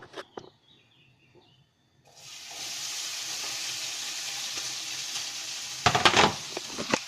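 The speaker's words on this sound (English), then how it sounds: "take your spam and put it into the oil" SPAM dropped into hot oil erupts into a steady loud hiss and crackle of frying that holds for several seconds, followed by a few clattering utensil knocks, close, no talk.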